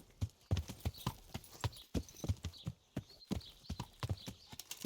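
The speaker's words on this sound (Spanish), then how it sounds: "Aquí el caballo." Horse hooves clip-clop steadily in a medieval role-playing game, a quick, even run of hoofbeats close by with a faint whinny, and no voices over them.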